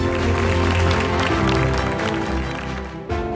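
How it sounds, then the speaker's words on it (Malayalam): Applause from an audience at an all-India mega quiz competition honoring a quiz team, a dense continuous clatter of clapping mixed with crowd noise and underlying tonal sound, steady and loud throughout. "നല്ലൊരു കൈയടി കൊടുക്കാം."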